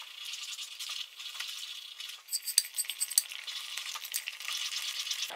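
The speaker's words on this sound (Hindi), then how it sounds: "थोड़ी थोड़ी सूजी ऐड करेंगे और इसको इस तरह से हिलाते जाएंगे" Semolina (rava) for upma is stirred in a pan, a soft scraping and light rattling of a spoon against the metal, with a few sharper clinks in the middle, fairly quiet and close.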